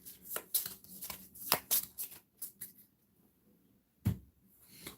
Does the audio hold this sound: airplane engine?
no